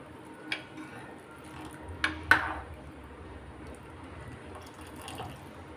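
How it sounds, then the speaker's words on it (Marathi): Hot water pours into a curry gravy in a pot, a faint, soft splashing trickle broken by a few sharp clinks of metal. "याच्यात आपल्याला गरम पाणी ॲड करायचं आहे"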